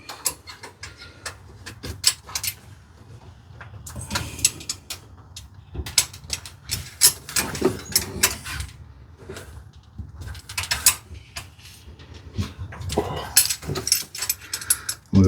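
Rocker arms being snugged up on a Suzuki Carry DD51T engine during a valve adjustment, with close, quiet ratcheting clicks and small metallic ticks coming in irregular bursts over a low background hum.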